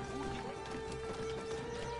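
Steady clip-clop of horse hooves trotting over a hard surface in Assassin's Creed, in a rustic part of the city, with a constant electronic hum underneath.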